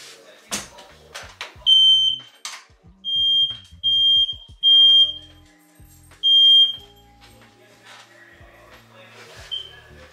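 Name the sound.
smoke detector beeping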